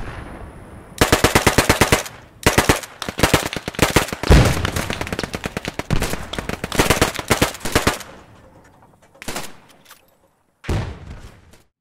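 Sustained machine-gun fire from the Post Scriptum World War II shooter, loud rapid bursts lasting several seconds, then a few shorter sporadic bursts after pauses, with no talking.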